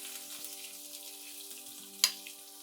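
Crushed garlic sizzles in oil for tamarind kuzhambu, a soft steady frying hiss with a steady hum underneath and one sharp click near the end.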